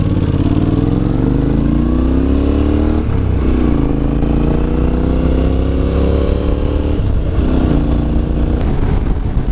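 Honda NC750X motorcycle engine droning steadily while riding along a local road, with rising pitch as it accelerates through the gears and brief dips at shifts, loud and continuous throughout with constant wind rush.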